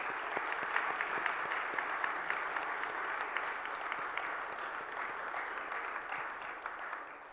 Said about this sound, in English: we should have a huge clap for having him here in the audience with us